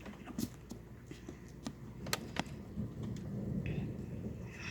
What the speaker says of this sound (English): there's a storm out there. It's raining, thunder, and lightning.